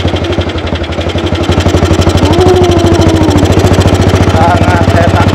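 A 1948 AJS 500 custom motorcycle engine thumps loudly and steadily close by while riding, with a fast, even firing pulse and a brief shift in pitch as gears change.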